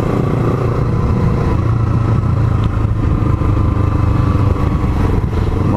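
A Yamaha MT-03 motorcycle rides through city traffic, its engine a steady mid-pitched drone with wind and road rumble, close and continuous, with faint clatter from surrounding vehicles.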